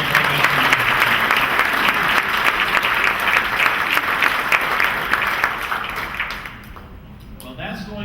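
Audience applause for the OTHS Jazz Choir at a high school Hall of Fame induction ceremony, a dense sustained round of clapping that fades out toward the end, followed by a voice starting to speak.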